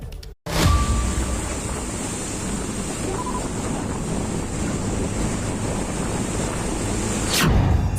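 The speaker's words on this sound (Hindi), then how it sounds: "समंदर की ऐसी खौफनाक लहरें आपने बस फिल्मों में देखी होंगी।" Fierce sea waves whipped up by Cyclone Yaas off India's coast, heard as a continuous loud surging roar with heavy wind buffeting the microphone, following a brief dropout at the very start.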